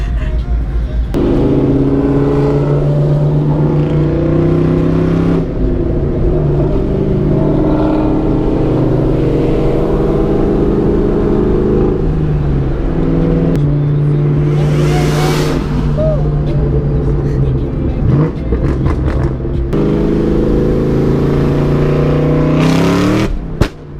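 At a car meet, a car fitted with an X-pipe exhaust revs loudly and repeatedly up close, its engine note rising and falling in a rough, throaty drone with sharp blips and crackles near the end.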